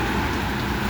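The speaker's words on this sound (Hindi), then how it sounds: "देखिए बारिश हो रही है" Steady rain pouring down at a roadside shelter beside a sand market, a dense, continuous hiss of drops on surfaces, close and loud with no break.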